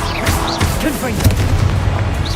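A Confringo spell explosion in Hogwarts Legacy, a deep booming blast with a broadband burst, fairly loud and mixed with shouted voices and game effects.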